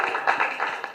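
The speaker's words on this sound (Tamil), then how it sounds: "பெரிய கைத்தட்டல் கொடுங்க" Audience applause at a celebrity gathering honouring a dance master: a steady wash of many hands clapping, fairly close and even, with small surges in intensity throughout.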